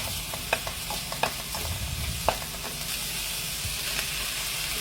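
Shredded chicken with carrot, light soy sauce and white pepper stir-fried for a noodle soup, giving an even hissing sizzle throughout with a few sharp scraping clicks of the utensil, no voices.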